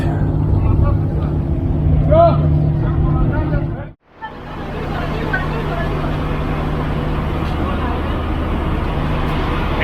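A ferry engine drones steadily under a babble of voices on the Hydra to Spetses crossing in the Greek Islands, briefly cut off mid-way before the low engine hum and chatter resume.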